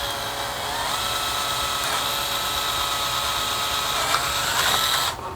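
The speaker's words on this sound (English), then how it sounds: "So we're just going to go ahead and drill that hole." A power drill whines steadily at high speed as it bores through the metal grille of a 2013 Dodge Ram 1500, then cuts off abruptly at the end.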